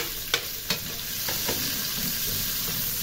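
Garlic, ginger and onion sizzle and fry steadily in a hot pan, with two sharp clinks of a utensil early on and a continuous crackling hiss that carries on alone without talk.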